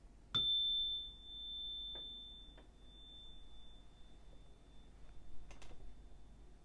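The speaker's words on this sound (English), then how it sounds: "let's begin by ringing the bell and clearing space" A single bright bell strike rings out and fades slowly, followed by a few soft clicks and taps in a quiet room.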